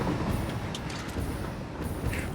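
A train rolls past in the factory-building video game Satisfactory, a continuous rumbling, clattering rush that holds steady for a couple of seconds.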